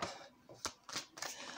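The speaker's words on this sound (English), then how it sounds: "I really do not like shuffling these cards." Quiet, close shuffling of tarot cards, a few soft riffling and slapping bursts of papery sound in quick succession.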